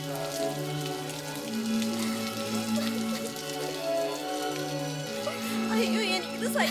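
Steady rain falls continuously throughout a scene from a Malayalam short film, mixed with sustained music.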